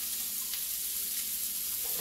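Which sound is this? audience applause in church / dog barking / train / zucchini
zucchini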